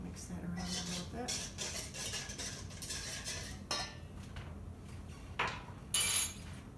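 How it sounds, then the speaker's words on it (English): A spoon stirs a yeast mixture in a bowl in a few short, quiet bursts of scraping and clinking, with brief pauses between strokes. "1 tablespoon yeast. Mix that around a little bit."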